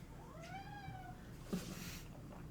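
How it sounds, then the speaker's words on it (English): A house cat meows once with a rising-falling, drawn-out call close by, followed by a brief soft thump amid low room noise; no one talks. "That was our kitty Miles coming to say hi."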